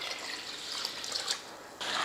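Water pours steadily from a tap onto rice, urad dal and fenugreek seeds set to soak for idli batter, a close, continuous splashing hiss that swells near the end.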